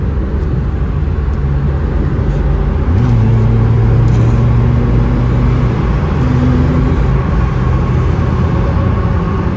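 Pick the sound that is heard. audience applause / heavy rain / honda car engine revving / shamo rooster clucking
honda car engine revving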